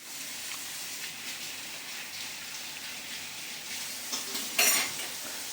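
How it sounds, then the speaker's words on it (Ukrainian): Rain falls outside a window in a steady, even hiss at moderate distance, with a brief faint clink near the end and no voices. "У нас дощ падає."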